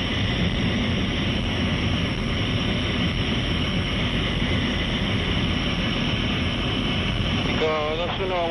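An English Electric Canberra bomber with Rolls-Royce Avon jet engines just after takeoff: a loud, continuous broadband jet roar that holds steady throughout, with a brief warbling tone near the end.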